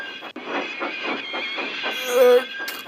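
Thomas the Tank Engine pulls away hauling heavy coaches, a steady rhythmic chuffing with a brief whistle-like tone near the end.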